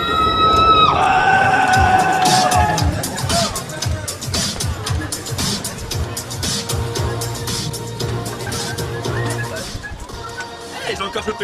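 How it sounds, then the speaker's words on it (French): A crowd at a live show cheers and shouts as an act is introduced, a loud wash of voices and whoops with an announcer talking over it at the start, then the noise thins into chatter. "Je vous demande d'applaudir les Big Bad Bosses."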